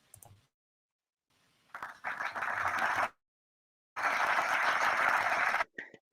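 Canned applause played back in two bursts separated by silence, each a dense, even wash of clapping that cuts off abruptly.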